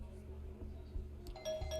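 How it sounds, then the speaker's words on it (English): A small bell on a shop door rings in Vampire: The Masquerade, a brief light chime near the end over a low steady room hum. "he pauses as a little bell rings"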